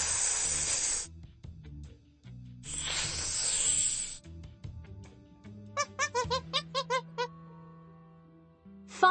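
Cartoon snakes hiss from behind a door in a jungle rescue game, two long breathy hisses followed by a quick series of short squeaky rattling bursts.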